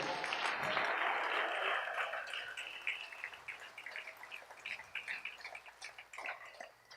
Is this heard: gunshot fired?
no